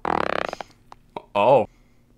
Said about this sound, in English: Here's a fart toot.